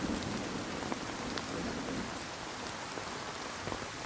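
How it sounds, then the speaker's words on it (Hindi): Steady rain pours down continuously, a dense hiss of drops striking surfaces at close range with a few louder splashes, with no voices present. "अरे ये क्या, ये तो बारिश होने लग गई।"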